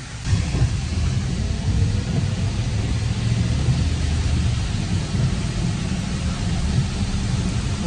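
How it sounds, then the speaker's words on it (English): Heavy rain pours steadily outside with deep rolling thunder rumbling low underneath, a dense continuous hiss of rainfall that stays loud and unbroken throughout, with no talking. "Look, the rain slowed down already."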